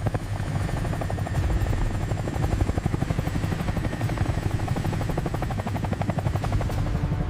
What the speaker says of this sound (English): 4 SEALs from SEAL Team 10 would insert by helicopter.